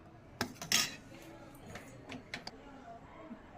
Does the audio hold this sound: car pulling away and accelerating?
no